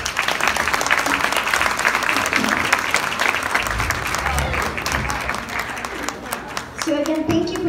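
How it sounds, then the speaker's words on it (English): An audience at a Christmas show claps in sustained, dense applause that stays loud and steady, with a voice speaking over it near the end. "round of applause"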